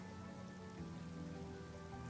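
Steady rain falls in Honkai: Star Rail, a dense, even patter with a faint tonal hum underneath, constant throughout at low volume with no voices.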